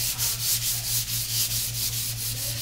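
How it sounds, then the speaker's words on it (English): A piece of hemlock wood is hand-sanded with 150 grit sandpaper in steady, even back-and-forth rasping strokes, close and fairly loud, with a low hum running underneath throughout. "I'm going to sand this piece of hemlock here with 150 grit."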